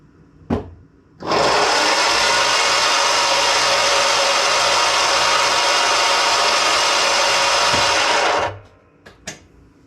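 Electric blade motors on a Ryobi riding mower spin up and run with a loud, even whir for about seven seconds, then wind down, framed by a few faint clicks before and after.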